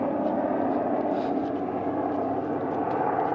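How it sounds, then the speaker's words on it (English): Steady, broad engine roar of a large helicopter overhead, loud and continuous with no talking. "there's a giant helicopter flying up above"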